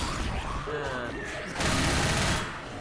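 Gunshots in Left 4 Dead during the No Mercy campaign: a steady, dense burst of firing sits under background game noise and some talk, and it swells louder near the end.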